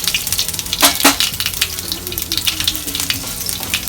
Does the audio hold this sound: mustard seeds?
yes